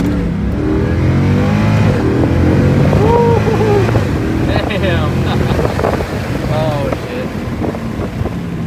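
A Mercedes C63 AMG W204, driven after an engine mount replacement, gives a steady engine drone and road rumble from inside the cabin, with wind noise throughout and a person talking over it.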